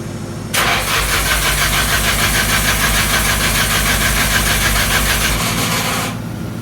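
A car engine with a struggling clutch fan turns over: a loud, close, rapidly pulsing churn that runs steadily for about six seconds and then cuts off.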